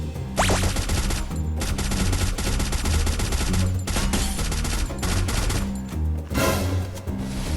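Rapid automatic gunfire in a video game, loud, dense bursts rattling almost without pause, with brief gaps between volleys.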